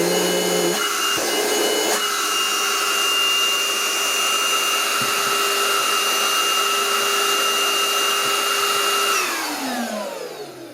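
A Portutif cordless handheld vacuum cleaner switches on with a rising whine and runs as a loud, steady high-pitched motor hum close by, then winds down near the end.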